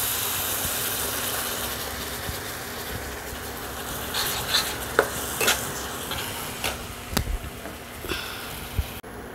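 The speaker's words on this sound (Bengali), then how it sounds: "এবার আমি দিয়ে দেব সাদা সর্ষে আর কাঁচা লঙ্কা পেস্ট" White mustard and green chili paste frying in a pan for a pomfret curry with raw mango, giving a steady soft sizzle with scattered sharp clinks and scrapes of stirring, close by with no talk.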